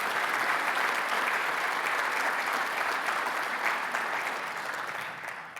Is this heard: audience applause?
yes